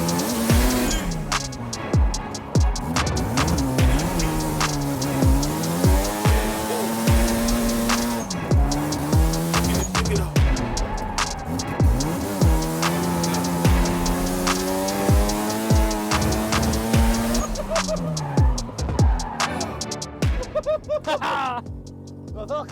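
Drift car driven hard around a track from onboard, engine revving up and down in long sweeping bursts with tire squeal throughout, loud and close, a voice speaking briefly over the din.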